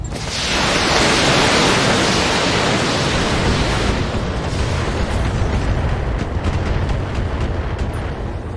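Mech weapons in the BattleTech game, RogueTech mod, unleash a long, loud roaring barrage of fire and explosions that washes out into a dense rumbling wall of noise, with no voices over it.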